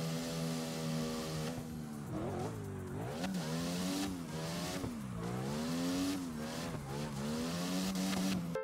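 A fourth-generation Mercedes C-Class coupe drives in CarX Drift Racing Online, its engine note rising and falling as it revs and eases off repeatedly, with a steady, fairly quiet drone throughout and no talking.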